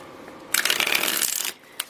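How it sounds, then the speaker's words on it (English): One quick riffle shuffle of a tarot deck, a dense crisp flutter lasting about a second, close and fairly loud, followed by a soft tap as the cards settle; no talking. "One more shuffle."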